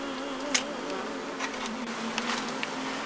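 Honey bees drone steadily in an opened hive in a forest apiary, a dense, continuous buzz close to the listener with a few brief sharper wingbeat spikes and no talking.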